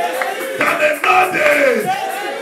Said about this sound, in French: Tes acclamations vont me pousser à parler de Jésus.